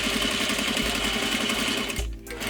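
A sewing machine runs an edge stitch along a trouser seam, a close, steady rapid pulsing hum that dips briefly near the end before resuming.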